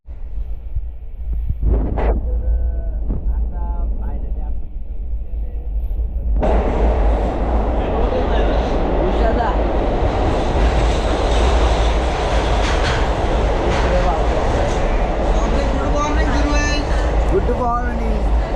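Riding inside a moving train on a trip to Goa. A loud, continuous rumble of wheels and carriage fills the cabin, and a few faint voices surface briefly amid the steady roar.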